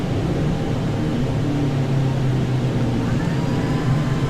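Steady droning engine noise from a Beechcraft Baron 55 in flight in the Prepar3d/FSX simulator game, a continuous twin-engine hum with faint tonal bands that holds even and loud throughout.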